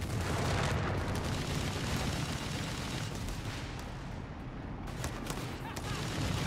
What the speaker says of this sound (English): AT gun with the barrage.